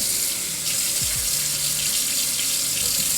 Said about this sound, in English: we're just gonna take some cold water